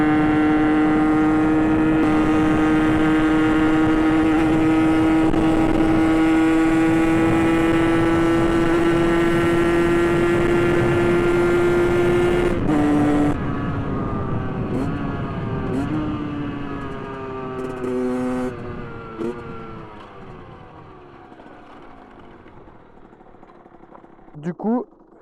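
A derestricted 50cc AM6 motorcycle with an aftermarket exhaust climbs a mountain road, its two-stroke engine screaming at a steady high pitch for about twelve seconds before backing off, then revving in shorter bursts as it fades.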